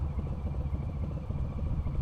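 A Harley motorcycle fitted with Vance & Hines Eliminator slip-on exhaust idles steadily, a deep continuous low rumble with an even throb, close and moderately loud, no talking.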